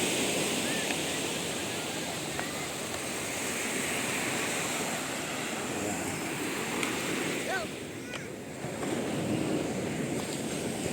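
Continuous wash of sea waves and surf along a Philippine beach, broad and steady with wind noise buffeting the microphone and a brief lull partway through.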